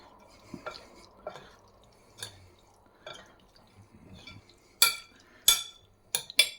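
A utensil stirs cold tomato pasta sauce with tuna, purslane and zucchini in a pan, soft wet scraping and dripping, then several sharp metallic clinks against the pan near the end.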